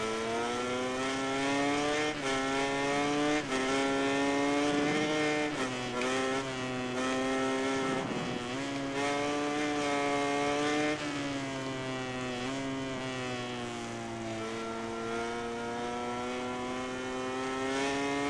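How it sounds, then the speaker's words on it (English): Ducati racing motorcycle engine in MotoGP 19, a steady high-revving whine that rises and falls with gear changes across the whole stretch, loud and continuous without speech. "I can just hear the Ducati behind me."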